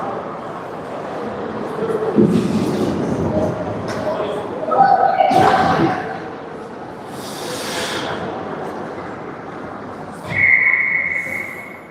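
A referee's whistle calls icing during a girls' youth ice hockey game, sounding as a short shrill blast amid arena crowd noise and rink echoes, with a later second whistle as play-by-play commentary continues.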